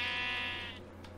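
A single sheep bleat from Minecraft SkyBlock, a buzzy harmonic call lasting under a second, close and fairly quiet, trailing off alone.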